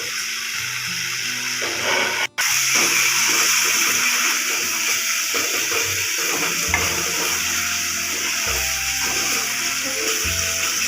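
Masala frying in hot oil for a jackfruit curry, a steady bright sizzle with occasional stirring scrapes that carries on loudly throughout.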